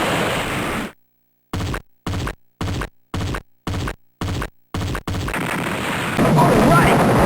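Rapid bursts of gunfire in a video game aimed at a multi-assault tank, seven sharp evenly spaced shots separated by silent gaps, followed by loud continuous battle noise.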